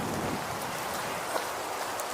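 Steady hiss of rain falling, even and continuous, with a faint patter of drops and no voices.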